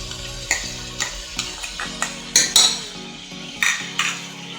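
Garlic-ginger paste frying in a karahi, with repeated metal utensil scrapes and clinks against the pan over a soft, steady background sizzle, close and fairly loud.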